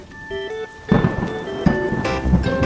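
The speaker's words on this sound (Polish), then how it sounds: "Tashiego i Ubakiego zaskoczyła burza." Thunder rumbles in heavy bursts over falling rain during a cartoon storm, with a bright musical score sounding underneath.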